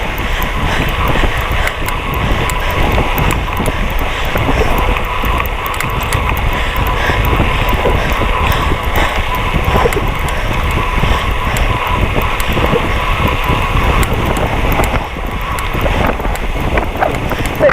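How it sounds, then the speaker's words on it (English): Wind buffets the microphone while cycling near the River Swale, a loud, constant broadband rumble and rush that stays steady throughout, with no voices heard. "Bit windy today."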